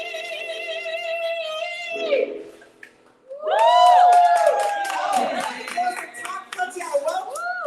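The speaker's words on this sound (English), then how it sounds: "Round of applause again." An audience applauds after a Broadway singer's number, clapping and cheering that rises after a sung phrase and a short pause, with a voice talking over the clapping.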